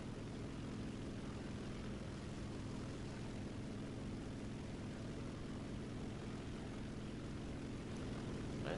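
Bomber aircraft engines in the War Thunder combat flight game, a steady, dense propeller drone that holds at a constant level throughout with no speech.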